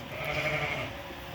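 A sheep bleats on a farm, a single drawn-out wavering call heard fairly close over a low steady background.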